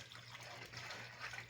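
Water pouring into a pot of mutton yakhni pulao, heard as a steady close splashing gush for the whole moment, no talking.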